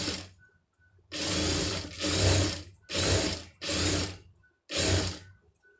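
Sewing machine stitching a puff sleeve, running in five short bursts of whirring mechanical rattle with brief pauses between, close and clear, no voices.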